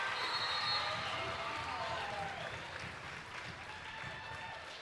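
Spectators at a Chapman versus Cal Lutheran women's basketball game reacting after a layup, a broad wash of applause and crowd noise that swells early then eases slightly, with voices over it.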